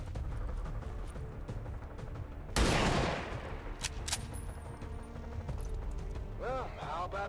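A burst of gunfire in the video game XCOM 2 cracks out loudly midway, followed by sharp mechanical clicks and faint game effects over a low ambient bed.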